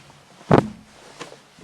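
A karate practitioner stomps a foot on the floor while driving forward with a punch, one sharp, heavy thud, followed by a fainter second knock.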